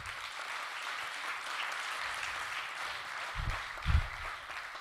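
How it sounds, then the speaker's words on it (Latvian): Audience applause at a Latgalian cultural society gathering, a steady wash of many hands clapping at moderate distance, with a couple of louder thumps near the end. "Un aplausi"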